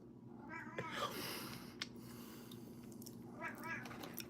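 A house cat named Licorice meows and yowls in a few drawn-out, wavering cries, one early and another near the end, heard fairly close over a low steady indoor hum.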